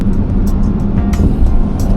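Engine of a 2008 Bentley Continental GTC heard from the car, a steady low rumble with small surges and some ticking, fairly loud, with no talk.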